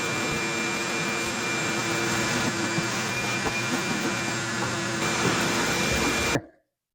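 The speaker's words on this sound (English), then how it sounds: "I'll go ahead and get my vacuum. I'll get this all cleaned up" A shop vacuum sucks up decades-old dust on an Alfa Romeo car, a loud continuous whining roar with rattling debris, cutting off abruptly near the end.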